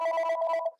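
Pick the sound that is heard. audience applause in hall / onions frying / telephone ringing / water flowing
telephone ringing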